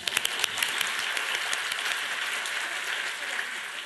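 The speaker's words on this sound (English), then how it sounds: "And your prize is a huge round of applause." A live audience gives a full round of applause at an evening talk, dense steady clapping with a few sharper claps standing out, loud and sustained throughout.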